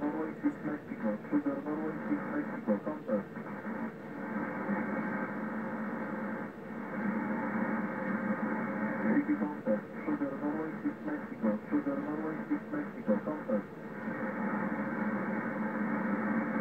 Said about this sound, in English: the intensity of the noise is too is so much strong that the desired signal is distorted.